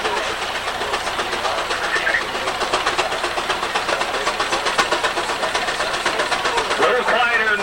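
A steam engine runs at a pioneer threshermen's show, giving a loud, steady mechanical churning and rumble that holds without pause throughout, close by.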